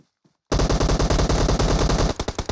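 An M4 rifle fires in PUBG Mobile as a rapid, loud automatic burst of evenly spaced shots, which breaks into a few separate trailing shots after a short silence.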